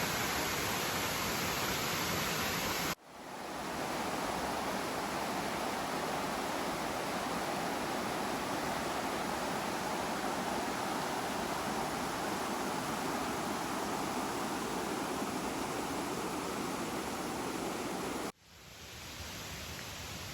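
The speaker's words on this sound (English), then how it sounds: "A gorgeous waterfall. I guess we follow this brook all the way up." A waterfall and rushing brook beside the Appalachian Trail pour out a loud, steady broadband roar that fills the whole stretch without letup, broken only by two abrupt cuts; no one speaks.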